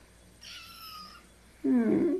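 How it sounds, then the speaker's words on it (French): A house cat meows near the microphone in a kitchen while a blackberry cake bakes, a faint higher cry first, then a louder, fuller meow at the end. "Petit minou."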